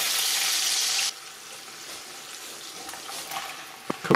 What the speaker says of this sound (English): cook the onions and mushrooms for about 5 minutes